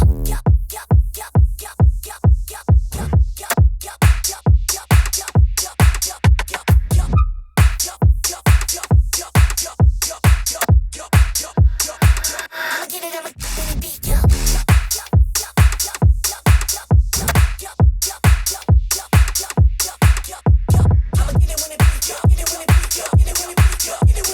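Drum track of a beat playing without its leads or bass, a punchy steady pattern of heavy kicks and snappy hits driving on with a brief drop-out midway, loud and close.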